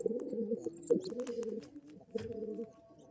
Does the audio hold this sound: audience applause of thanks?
no